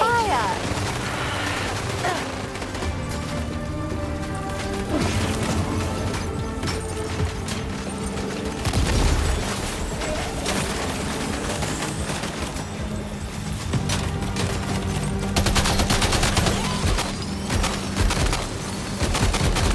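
Sustained automatic gunfire from a firefight in the video game Death Stranding 2, dense rattling bursts and booms running nearly continuously under shouted voices and game music.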